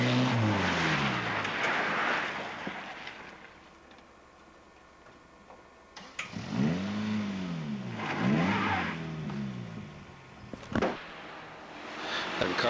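A Toyota pickup rally car races past on a forest stage, its engine swelling and fading in sharp pitch-bending Doppler sweeps, one quiet pass then two quick loud passes, with faint ticking in the background.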